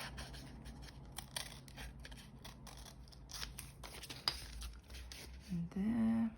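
Scissors snip paper close by as a window envelope is trimmed by hand, a run of small crisp cuts with light rustling. A brief voice-like sound rises at the end.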